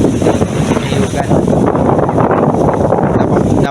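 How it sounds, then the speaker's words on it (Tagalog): Strong wind buffets the microphone outdoors in the Filipino countryside near a coconut grove, a loud continuous rumbling roar throughout with no pauses. "Napakalakas ng hangin dito mga boss."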